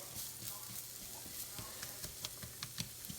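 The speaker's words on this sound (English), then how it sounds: "We're going to saute these in a little bit of olive oil." Diced red onion sautés in a little olive oil, a faint sizzle broken by scattered stirring taps and clicks, heard close and quiet.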